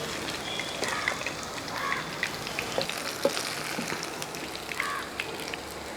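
Beef pieces fry in hot oil with a soft, steady sizzle and scattered crackles and pops. The sound is fairly faint and close, with occasional clinks of a utensil and no talking.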